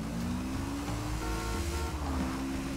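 Honda Biz 125 2017 motorcycle engine revving in GTA V, a continuous buzzing engine drone with shifting harmonic tones as the throttle rises, steady and close with no talking.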